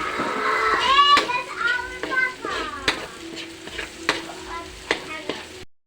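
Garlic and onion fry in a pan for a milkfish dish, a moderate sizzle with stirring clatter running under nearby children's voices and chatter.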